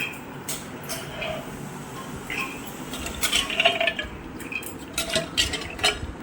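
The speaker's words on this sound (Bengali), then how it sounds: "প্রথমে মটরটাকে আমি ভিজিয়ে রেখেছিলাম, এতে দিয়ে দিচ্ছি প্রেসার কুকারে সেদ্ধ করে নেব।" Soaked peas go into a metal pressure cooker to be boiled for ghugni; light metallic clinks and rattles of utensil on pot come in scattered clusters, close and moderately loud, with no talk.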